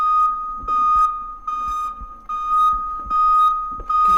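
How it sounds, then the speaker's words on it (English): A fire alarm blares inside a house in the horror video game Minds Eyes, a loud steady electronic ring broken by short pulsing gaps, repeating through the whole stretch with no talking. "Even the fire alarm isn't enough to get this guy to just leave the house."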